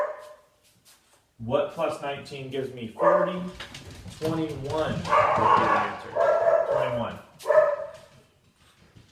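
Dogs bark in repeated sharp bursts at close range, mixed in with someone talking through a lesson.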